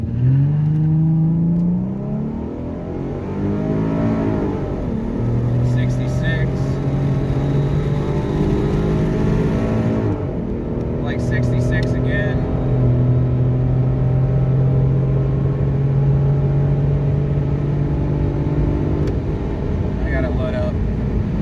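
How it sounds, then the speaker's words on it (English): A tuned Mustang with a 3.7 V6 and an SCT X4 tune pulls hard on the road. The loud engine drone climbs in pitch, drops at the 1-2 and 2-3 shifts and climbs again, while someone talks over it. "We're going to get the 1-2 shift and then the 2-3 shift, and then try to top it out at 125 there"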